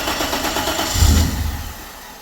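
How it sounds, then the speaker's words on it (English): BMW E32 735i engine running, a low rumble that swells briefly and then settles back, heard close without talk. "let's see how loud the engine is now"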